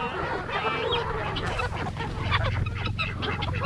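Guinea fowl on a farm that also keeps Black Angus cattle and pigs call in a harsh, honking chatter that runs continuously and fairly loud throughout, with several birds overlapping.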